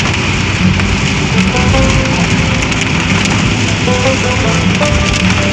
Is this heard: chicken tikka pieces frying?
no